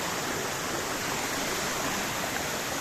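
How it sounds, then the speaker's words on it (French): Saut de la Truite, a roughly fifteen-metre waterfall with a rushing mountain torrent below on the Grandval cascades circuit in the Cantal, gives a loud, steady, broadband roar that never lets up, with no voices. "Voilà la cascade du Saut de la Truite. Elle est splendide."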